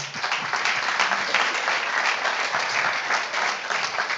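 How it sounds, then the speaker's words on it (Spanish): An audience at a voice and dialogue meetup breaks into steady, sustained applause, dense clapping from many hands that stays loud and even throughout. "Un aplauso, por favor, para Alejandro."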